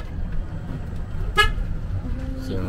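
An electric vehicle's horn gives one short, loud toot about midway, standing out clearly above a steady background of road and engine rumble on a drive in Georgia.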